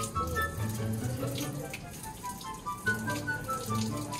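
Water runs and splashes while a toy car is washed, a faint, uneven trickling with small drips close by, broken by brief bits of adult talk.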